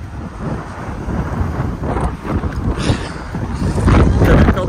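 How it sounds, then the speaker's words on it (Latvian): Strong wind from the sea blows steadily across the microphone at a seaside pier in England, a loud continuous roar that grows stronger toward the end, with no speech over it. "te ir visu laiku diezgan stiprs vējš, mitrums no jūras"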